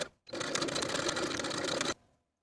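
A sewing machine stitches back and forth across overlapped elastic ends, a steady close mechanical whir of rapid needle strokes lasting about two seconds before it abruptly stops.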